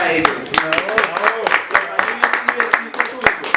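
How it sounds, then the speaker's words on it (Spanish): An audience at a live storytelling performance claps in a dense burst of sharp, close hand claps, with voices mixed in under the clapping. "Un fuerte aplauso para ellos."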